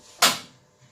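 Oven door swung open in a home kitchen during cookery safety practice: a single loud, sharp burst of opening noise that quickly fades, with only faint room sound afterward and no talk.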